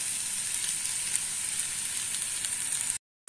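Ridge gourd peel frying in a pan gives a steady, close sizzle with a bright, even hiss and no talk. It cuts off abruptly into silence near the end.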